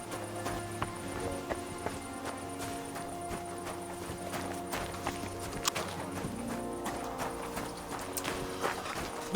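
Horse hooves clip-clop steadily at a walking pace in the medieval game Kingdom Come: Deliverance 2, fairly quiet and even, with soft ambient game sound around them.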